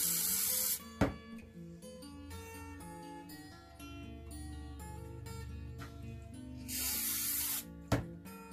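Spray cans of glue and artificial snow aimed at a Christmas table decoration, giving two short loud hissing bursts at the start and end, with music playing steadily underneath.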